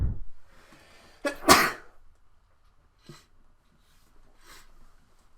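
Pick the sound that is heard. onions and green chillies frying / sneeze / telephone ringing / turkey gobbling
sneeze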